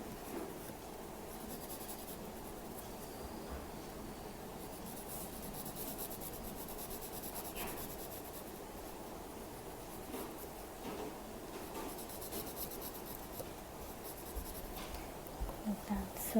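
Pencil drawing on paper for a Zentangle-style mandala, soft steady scratching and rubbing strokes, close and quiet, continuing throughout with faint intermittent texture.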